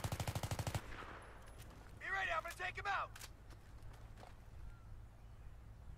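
A short burst of rapid video game gunfire from a periscope gun glitch on the Noshahr Canals map opens the clip, followed by a brief voice and quiet ambient game sound.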